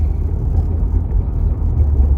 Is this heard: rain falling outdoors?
no